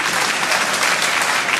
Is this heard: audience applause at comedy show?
yes